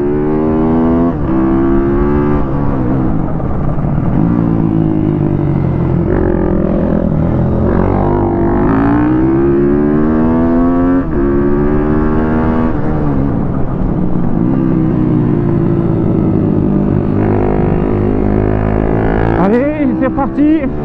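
A YCF prototype supermoto motorcycle rides on a race track, its engine droning steadily and loud throughout with rising and falling revs as it chases another bike, voices sounding intermittently over the engine.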